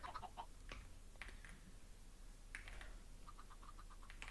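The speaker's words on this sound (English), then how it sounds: "chicken farm is slowly coming together." Chickens on a Minecraft chicken farm give faint, scattered clucks at irregular intervals over a low background hum.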